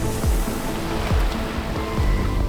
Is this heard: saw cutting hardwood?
no